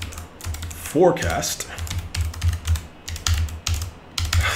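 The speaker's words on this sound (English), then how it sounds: "So we simply type in local" Rapid, irregular clicking of keys on a computer keyboard, close and steady throughout, with someone speaking over the typing.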